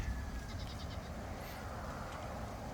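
A goat bleating on a farm, faint and somewhat distant under a steady wash of wind or outdoor background noise, with a few short wavering calls.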